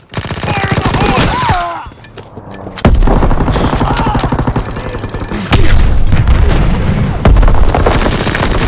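Grenade blasts and heavy gunfire in a World War II shooter game battle over a command post, with loud booming bursts and rapid shots throughout, and shouted voices mixed into the chaos.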